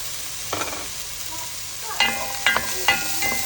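Garlic and onion fry in a pan, with a constant light sizzle broken by several sharp spatula scrapes and clinks as they are stirred.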